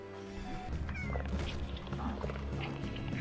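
A mutant cat slime in the video game Slime Rancher meows in a drawn-out, wailing way, fairly faint under busy game music and effects.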